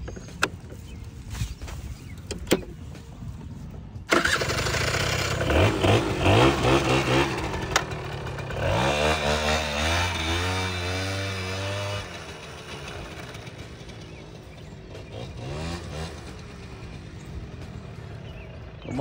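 A 2006 Suzuki LT80 ATV engine revving during a ride, a small engine that comes in abruptly, then rises and falls through rev sweeps before fading to a lower drone.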